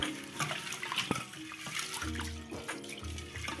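Kidney beans are rinsed in water and the water is poured off in a home kitchen while making rajma dosa. Soft splashing and sloshing continue steadily throughout, quiet and close.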